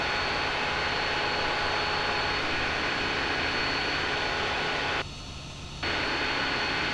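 Light training aircraft engine drones loudly and continuously in flight as a steady broadband roar, briefly dipping in level near the end before resuming.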